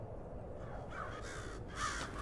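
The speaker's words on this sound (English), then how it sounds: "Alright, there's a crow." A crow caws in the video game Hello Neighbor 2: two harsh calls in the second half, set against a steady low ambient game hum.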